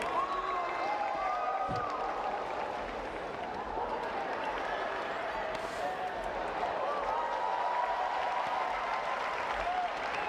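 A large crowd at a Paralympic wheelchair tennis gold medal match in Rio stands and applauds, with dense sustained clapping and scattered cheers and voices rolling on steadily throughout.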